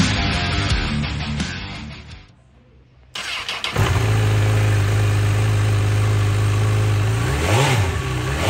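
A 2012 Honda CB1000-R motorcycle starts with a brief lull, then its engine settles into a loud, steady, close idle with a slight blip near the end; no one speaks.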